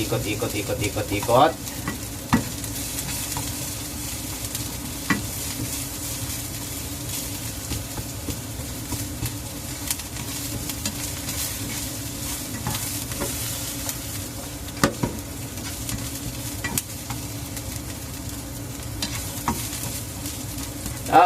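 Chopped garlic and onion fry in a pan with a continuous sizzle, while a spoon stirs them in repeated scraping strokes with occasional sharper knocks against the pan.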